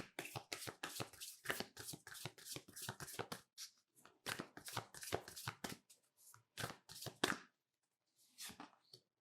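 Oracle cards being shuffled by hand, with rapid runs of crisp riffling and slapping card sounds in bursts, close and clear, separated by short quiet gaps.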